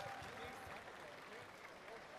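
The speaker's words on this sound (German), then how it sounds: "Nochmal einen großen Applaus an alle Teams." Applause for all teams at an anime convention award ceremony, YuniCon 2023, quiet and somewhat distant, with continuous clapping and some voices mixed in.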